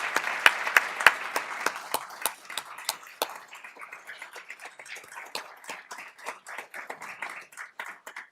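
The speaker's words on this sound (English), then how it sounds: "Let's give the groups today who got their awards another final round of applause." Audience applause for award-recipient groups at the 2022 Mission Legacy Awards ceremony: a dense burst of hand clapping that gradually thins into scattered, fading claps, with no talk.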